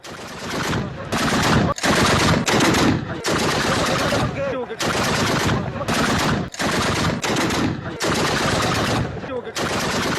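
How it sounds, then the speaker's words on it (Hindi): Afghan army gunfire at Pakistani border posts, loud sustained bursts of automatic fire in long runs broken by short pauses, close and harsh throughout, with no speech. "बॉर्डर इलाकों पर अफगान सेना फायरिंग कर रही है।"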